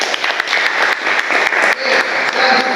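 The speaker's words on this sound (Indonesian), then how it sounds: "Tepuk tangan." Students in an automotive engineering classroom clap together, a short burst of brisk, slightly uneven applause from a small group, close and loud.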